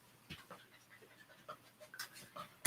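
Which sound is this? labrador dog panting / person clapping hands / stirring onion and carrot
labrador dog panting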